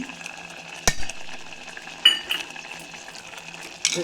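Chow chow bath, a sweet semolina dish with sugar just added, being stirred in a pan, with a soft simmering hiss broken by three distinct spoon knocks against the pan and no voices.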